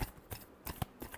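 Tarot cards are shuffled in a handful of quick riffling bursts, close and fairly quiet, with short gaps between them.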